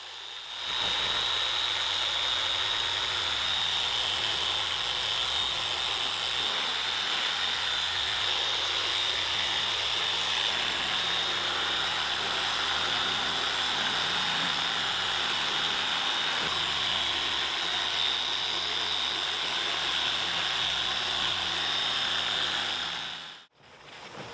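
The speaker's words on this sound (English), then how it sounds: "This size of the polisher works really well on the headlights." A 3-inch polisher buffs a car headlight, giving a steady, loud, high-pitched motor whine that runs unbroken from nearby before cutting out briefly near the end.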